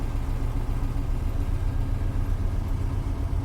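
A diesel locomotive in Train Simulator is throttled up to notch 4, giving a steady, loud, low engine rumble that drones on without a break and with no talking.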